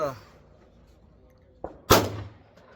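At an outdoor shooting range, .38 Special test loads fire from a Cattleman revolver as two sharp reports close together, the second louder, after a trailing sound from an earlier shot.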